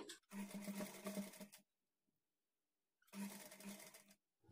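Sewing machine stitching blouse fabric at a half-inch margin: two steady whirring runs of rapid stitching with a brief silent pause between, close and clear.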